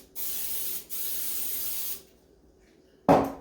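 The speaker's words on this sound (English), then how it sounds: "spray my pan with Pam cooking spray" Pam cooking spray hisses onto a cake pan in two steady bursts, about a second each, close up, followed by quiet and a brief clunk.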